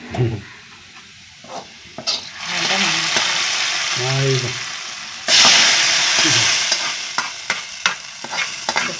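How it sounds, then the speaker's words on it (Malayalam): Onions sizzle and hiss loudly in a hot pan, with stirring scrapes and utensil clicks, and a brief voice partway through. "നന്നായി മൊരിഞ്ഞില്ലേ മൂത്ത് വന്നു ഉള്ളി മൂത്ത് വന്നു"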